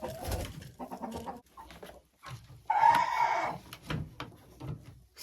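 Hens in a coop cluck and murmur close by in short uneven bursts, with one louder drawn-out call in the middle.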